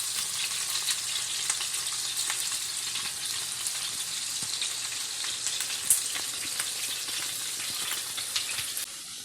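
Steady crackling sizzle of sweet potato fries frying in hot grease, dense popping and hissing at a constant level, close and with no voices.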